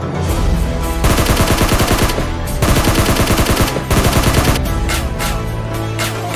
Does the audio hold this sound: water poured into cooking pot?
no